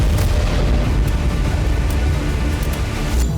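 Explosions from a drone attack in Belgorod roll as a loud, dense wall of booming rumble, with repeated sharp bursts standing out from a constant low roar; no voices.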